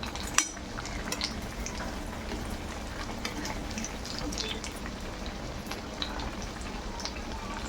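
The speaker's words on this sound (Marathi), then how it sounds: "चांगला गोल्डन रंग येईपर्यंत आपल्याला हे तळून दे" Batata vada dumplings frying in hot oil, a steady dense sizzle and bubbling with scattered crackles and a few light clinks, continuous and close throughout.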